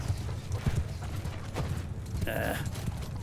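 Cavalry horses charge across a battlefield in Mount & Blade II Bannerlord, with a steady rumble of hooves and clatter under battle noise, a brief bright metallic ring near the end.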